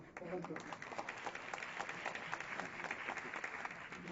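An audience claps together in sustained applause, many hands patting in a fairly even rhythm at moderate distance, with voices mixed faintly underneath.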